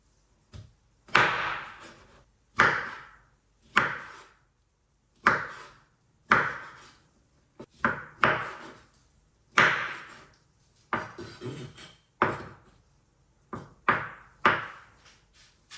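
A knife cuts through peeled tropical fruit for a fruit salad, producing about a dozen crisp slicing strokes onto a board at a slow, fairly regular pace, each one distinct and close with quiet gaps between.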